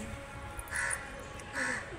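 Crows caw twice outdoors near a peepal tree shedding its leaves on a windy evening, each call a short, fairly clear burst over a steady breezy hiss.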